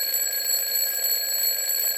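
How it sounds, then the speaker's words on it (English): A continuous electronic alarm clock ringing steadily at moderate volume, with a sustained high-pitched tone and overtones, heard alone without voices. "The sound of the alarm clock and the light from the morning sun became my new reality."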